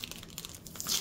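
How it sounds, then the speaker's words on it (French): Thin plastic-wrapped sheets crinkle and crackle in short, close bursts during a diamond painting unboxing, with a brighter rustle near the end. "Excusez-moi pour ce bruit de plastique."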